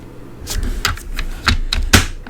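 Scoring tool pressed along cardstock, a series of short sharp scraping strokes, about six quick hits at uneven intervals, close and fairly loud.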